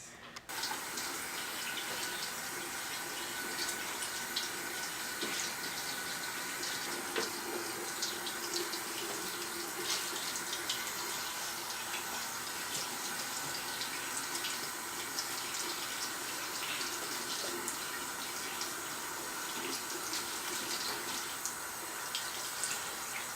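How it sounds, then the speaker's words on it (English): Real Techniques makeup sponge being rinsed and squeezed under a running sink tap, a steady close hiss of flowing water with small splashes and drips throughout, no voices. "now I'm going to show you how to clean my dirty sponge"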